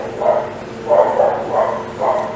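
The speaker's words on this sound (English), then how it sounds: "you can hear the dog barking in the background" A dog barks several times in a loose rhythm, muffled and moderately distant, with short pauses between barks.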